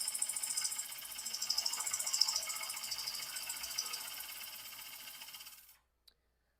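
Wood bowl blank spinning on a lathe as a bowl gouge cuts along the bevel, a steady loud hissing, rattling shave sound for several seconds that stops abruptly, followed by one small knock.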